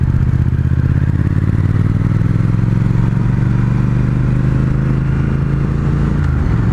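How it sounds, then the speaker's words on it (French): A Triumph Speed Twin's engine pulls smoothly at 2000 rpm in third gear, a loud, close, even low drone with a slight rise in pitch and no talk over it. "là on est à 2000 tours en troisième, on était à 40, ça tape pas, ça reste très très doux"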